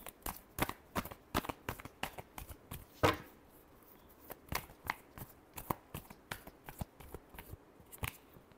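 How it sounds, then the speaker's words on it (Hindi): A deck of tarot cards is shuffled close up, with rapid rhythmic slaps and riffles repeating steadily throughout and one sharper flurry partway through. "Last shuffle."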